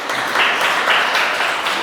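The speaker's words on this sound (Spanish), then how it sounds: "Un aplauso por la vida de Carlos." Applause from a church congregation for a man named Carlos, a steady wash of clapping from many hands that stays loud and even for about two seconds, with no voices over it.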